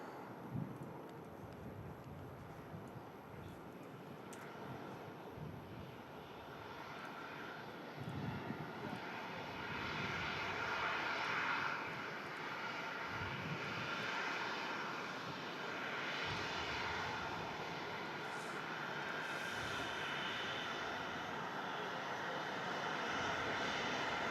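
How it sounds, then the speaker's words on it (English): An Emirates Airbus A380-800 arriving from Dubai to land at Manchester Airport, its engines a steady broadband roar that swells slightly midway and holds at moderate distance, with light wind noise and no talk. "Coming in from Dubai, the Emirates Airbus A380, 800 series."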